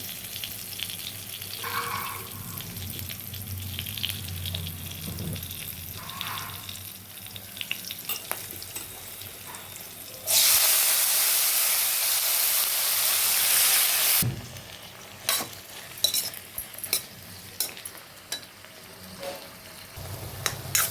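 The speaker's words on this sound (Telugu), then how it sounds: "ఇదండి బీరకాయ మొత్తం వేగాలి." Ridge gourd pieces with a little turmeric frying in a pan, a continuous close sizzle with a loud burst of hissing steam midway, then scattered clatters from stirring.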